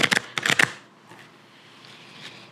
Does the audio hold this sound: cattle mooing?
no